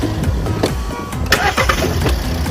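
A warm car engine is cranked with the key. The starter whirs briefly, then the engine catches and settles into a smooth idle, close by.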